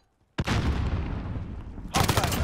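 A grenade blast and gunfire in Call of Duty: Modern Warfare, a sudden loud boom after a moment of quiet, then a sustained rumble and a second burst of shots close by.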